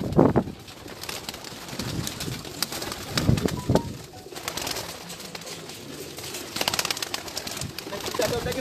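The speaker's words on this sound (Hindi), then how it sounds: "ये सारे प्रवासी कबूतर हैं माशाल्लाह।" Migratory pigeons coo softly in a flock amid busy background noise, with occasional wing flutters and people talking nearby.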